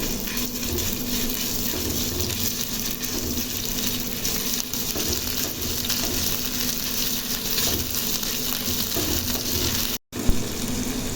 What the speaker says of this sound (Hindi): इसमें अदरक और लहसुन का ये पेस्ट डाल देती हूँ। थोड़ा सा फ्राई करती हूँ इसे।